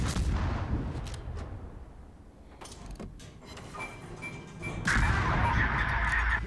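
Naval guns firing in World of Warships, heard as heavy booms over a constant low engine rumble, with a louder burst of shots and shell noise near the end.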